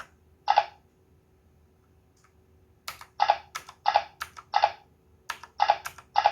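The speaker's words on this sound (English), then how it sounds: "So let's do some keyboard tests." Keys on a TYLEX XZ66 mechanical gaming keyboard are pressed one at a time, sharp close clicks: one early press, a pause, then a run of about ten irregular clacks.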